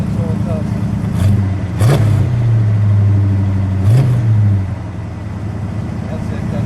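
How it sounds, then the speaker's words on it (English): A 1975 Dodge Charger Daytona with a 360 V8 sitting at a high idle, then revved twice, a loud rising roar each time before settling back, with a voice talking over it. "Give it a rev. It sounds like it's a little high idle right now."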